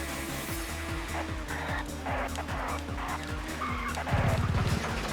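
A touring car in the TOCA Touring Car Championship racing game skids in an evasive swerve, a loud tire squeal rising over the steady pulsing engine drone near the end.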